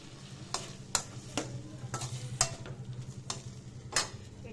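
Salted tomatoes frying in a pan for a simple okra curry: a quiet, low sizzle runs beneath a regular series of sharp spoon taps and scrapes against the pan, roughly one every half second.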